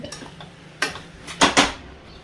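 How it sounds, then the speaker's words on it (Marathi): A spoon clatters against a pot while tomatoes are stirred into prawn pulav, a few sharp metallic scrapes and knocks standing out over a quiet kitchen background, with two close clinks near the end. "आणि याच्यामध्ये जाणार आता टोमॅटो. छान ढवळून घ्यायचं."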